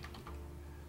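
Several quick keystrokes tap on a computer keyboard while commands are entered to set up a Raspberry Pi, clustered at the start, then a quiet hum.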